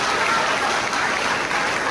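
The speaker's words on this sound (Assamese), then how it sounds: "ছাৰৰ কাৰণে এটা ডাঙৰকে হাত চাপৰি মাৰিছে" An audience claps for a district official in a steady, dense round of applause with no talk over it.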